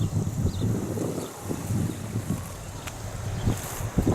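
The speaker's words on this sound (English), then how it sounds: "It's a bit windy" Wind gusting across the small harbour at Tresco in the Isles of Scilly, a steady close buffeting roar with low rumbling surges and no talking.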